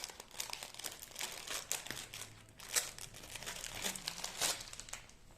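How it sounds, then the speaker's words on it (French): Crinkling of a Reese's candy wrapper being opened, close and fairly quiet, with irregular crackles and a few sharper tearing bursts across the whole stretch. "Je l'ouvre. Si j'arrive à l'ouvrir."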